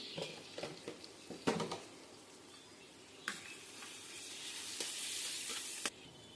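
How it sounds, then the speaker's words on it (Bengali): Onions fry in a pan with salt and turmeric, making a continuous close sizzle broken by clattery stirring bursts and scrapes. The sizzle swells louder toward the end. "তাতে করে পেঁয়াজটা ভেজে নেওয়া হয়ে যাবে"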